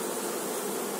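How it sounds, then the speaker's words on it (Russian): Honey bees swarm at a beehive, a dense, steady buzzing drone filling the space continuously and loudly at close range with no talk. "Еще вот сколько пчел."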